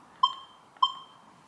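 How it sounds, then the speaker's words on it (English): Two short electronic beeps from a metal detector signalling buried iron, about half a second apart, each a clear tone that fades quickly over a faint background hiss. "So now, you still hear the buzz for the iron coke."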